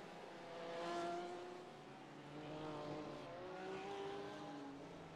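GT race cars, including a Lotus and a McLaren, roar past in a racing series, engine notes rising and falling across several overlapping passes at steady, loud volume with no voices.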